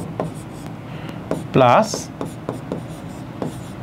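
Chalk or marker writing a chemical formula on a classroom board: short tapping strokes with a brief louder scratchy stroke in the middle, under a teacher's speech.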